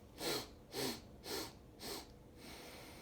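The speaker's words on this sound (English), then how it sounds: "So 4 distinct sniffs on the inhale, 1 exhale through the nose." Four sharp nasal sniffs in steady rhythm, each a short breathy rush of air, followed by a softer, longer exhale through the nose.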